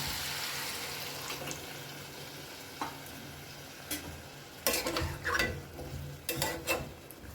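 Chicken stock poured into chicken cooking in a pan for chicken Jahangiri, a soft steady sizzle broken by a few louder splashing, bubbling bursts near the end.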